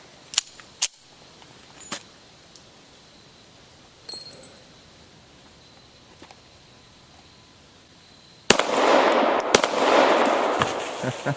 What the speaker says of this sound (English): Let's shoot a little bit more here, since we have some magazines loaded up.